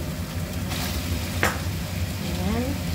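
Mushrooms stir-fried with beef tendons in a pan, giving a steady loud sizzle and crackle with a brief scrape of the utensil partway through.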